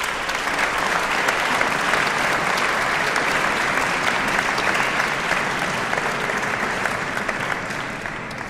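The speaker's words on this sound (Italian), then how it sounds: "Quindi un grandissimo applauso anche alla vicinanza della ditta Baxter." Audience applause at a Mozart Requiem concert in the church of Santa Francesca Romana in Milan: sustained, dense clapping from a large crowd, steady and loud throughout, easing only slightly near the end.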